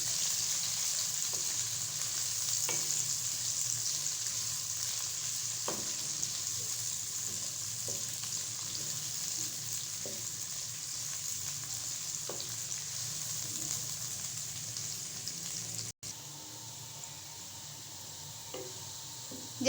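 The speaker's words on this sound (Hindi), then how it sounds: "अब हम इसमें मीडियम साइज़ का प्याज डालेंगे। और इसको लाइट ब्राउन होने देंगे।" A medium onion frying with cumin in hot oil until light brown for aloo gobhi, a continuous close sizzle with occasional soft stirring clicks, steady throughout with a brief dip near the end, no talk.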